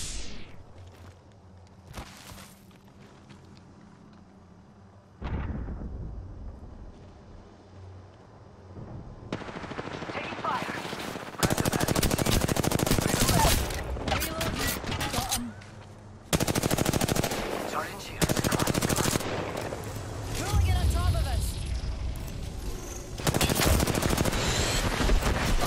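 Weapon fire in Apex Legends: after a quiet stretch, loud rapid automatic bursts rattle close by, broken by short pauses and separate heavy shots.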